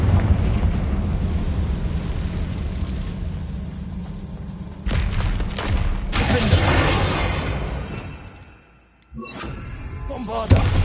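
In Hogwarts Legacy, Confringo fire blast spells explode in loud, thudding bursts with sharp onsets over continuous game noise, then a brief drop to near silence and a final booming hit.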